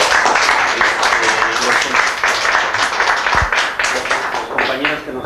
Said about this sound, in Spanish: Un aplauso, por favor, para la compañera.